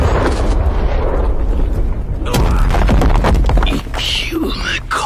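A loud, rumbling explosion in an anime scene, a sustained roaring blast with debris-like crackles and a second burst partway through, dense and close throughout.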